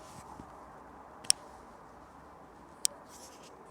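Two sharp, isolated mechanical clicks from a Bear Force professional foam cannon, spaced over a second apart against a quiet, faint background hiss.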